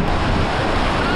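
Loud, broadband rush of Pacific Ocean waves washing over sand, heard close and continuous with heavy wind buffeting across the whole stretch.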